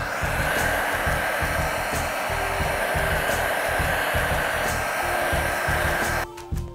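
Heat gun blowing steadily on a sneaker sole shield, a loud continuous airy roar up close that holds for several seconds before cutting off near the end.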